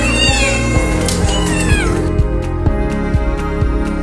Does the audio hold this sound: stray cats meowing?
yes